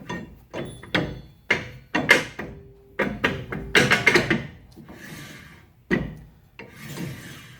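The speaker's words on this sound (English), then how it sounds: "you just want them to barely rub in there, barely scuffing" Brake shoes on a Dodge Dakota scuffing lightly inside the drum as it turns, a series of short close rasping rubs in an uneven rhythm, each fading quickly, with no talk over them.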